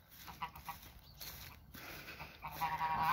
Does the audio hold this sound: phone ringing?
no